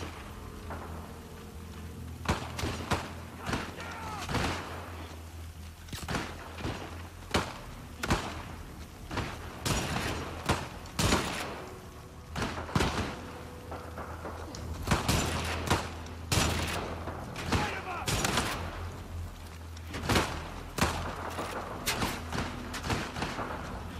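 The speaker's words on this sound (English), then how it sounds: "It's a lot of gunfire and nobody's hitting anybody." Dense gunfire in The Last of Us Part II fills the scene: rapid, overlapping sharp shots and thuds crack irregularly at varying distances in a sustained firefight.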